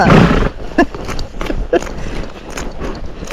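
Tennessee Walking Horse cantering on an outdoor trail, its hoofbeats thudding in a steady three-beat rhythm, close and fairly loud, with a louder burst of movement at the start.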